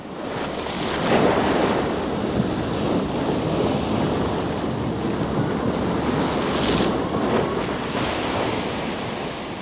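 Sea waves breaking on a lava shore, a loud continuous rushing wash with surges swelling and fading, mixed with wind buffeting, close and without voices.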